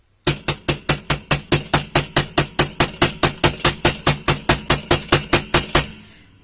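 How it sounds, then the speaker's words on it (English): Steel hammer striking memory wire laid on a metal block, about twenty-five sharp, evenly spaced blows in a steady rapid rhythm, close and loud, each ringing briefly before the next, ending with a short fading ring. "I've finished with the hammer."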